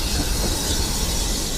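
A Bury steam train pulls away with a loud, dense roar of wheels on rails and hissing, steady and close for the whole stretch with no talking.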